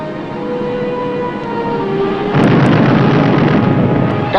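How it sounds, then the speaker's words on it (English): A sudden heavy burst of loud, dense gunfire from a WWII submarine engagement erupts midway over a steady background rumble, continuing as a sustained barrage. "Gunfire."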